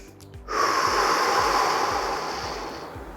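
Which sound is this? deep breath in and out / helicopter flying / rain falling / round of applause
deep breath in and out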